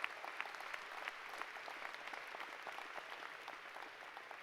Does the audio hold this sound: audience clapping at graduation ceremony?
yes